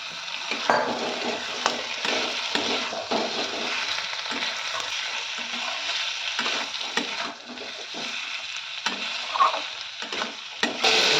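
Boiled potatoes fry in a pan with ginger paste, a continuous sizzle broken by repeated scraping and clattering strokes of a spoon as they are stirred, close and fairly loud, with no voices.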